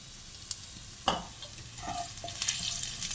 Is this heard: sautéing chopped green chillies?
yes